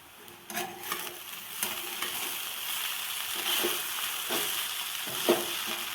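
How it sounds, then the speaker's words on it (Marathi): Flattened rice (poha) being sautéed in a pan, with a continuous sizzle broken by repeated spatula scrapes and light knocks, close by and without speech. "आणि ह्या पद्धतीने व्यवस्थित त्याला परतून घेत आहे मी आता पोह्यांना"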